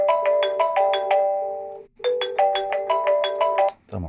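A phone ringtone rings during a test call through a 3CX live chat plugin for a WordPress site, playing a repeated melodic chime pattern twice with a short gap between phrases, loud and close with no voices over it.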